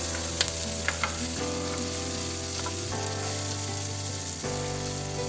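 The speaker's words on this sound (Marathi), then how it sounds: "आता आपण या कांद्याला छान असा गुलाबी रंग येईपर्यंत तळून घेणार आहोत" Chopped onion frying in oil with cumin seeds in a pan, a steady close sizzle that runs throughout with a few faint clicks near the start and no voices.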